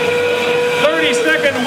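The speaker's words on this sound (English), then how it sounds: "30-second whistle goes." A long, steady warning whistle sounds through the arena during the 2022 Northern Lights Regional robotics competition final. It holds one pitch under loud crowd noise and an announcer's voice.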